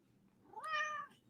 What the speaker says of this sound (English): See, I ask, he meows.